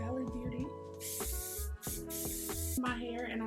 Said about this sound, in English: I am using the generic brand of the Sabastian shaping spray